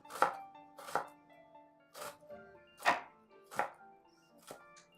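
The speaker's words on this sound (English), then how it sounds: "Mince some ginger in it." A knife mincing ginger on a cutting board strikes with about seven slow, separate, crisp chops, spaced roughly a second apart, close and clear over a quiet background with faint soft music.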